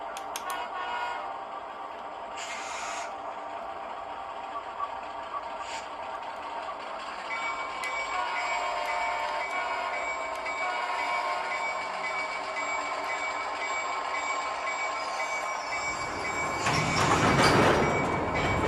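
A model railroad train rumbles along steadily at a realistic freight-switching layout, the running noise continuous and fairly close, swelling into a louder, brighter burst near the end as the locomotive changes direction; no talking.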